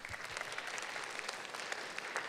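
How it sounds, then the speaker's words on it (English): Audience at a conference applauding, brisk even clapping that holds at a steady level for a couple of seconds, with no speech over it. "Applause for her."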